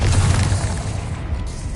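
A fiery Confringo spell explosion in Hogwarts Legacy, a dense low booming rumble with broad crackling noise sustained throughout, loud and close, with no voice over it.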